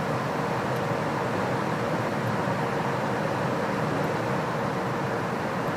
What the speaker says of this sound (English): when I plug in the blower motor itself, I don't know if you can hear that, but it started working